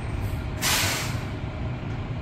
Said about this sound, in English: The garbage truck.